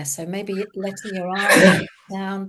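A sudden loud sneeze bursts out in the middle of calm, soft-spoken guidance during a seated relaxation session, the speaking voice carrying on right before and after it.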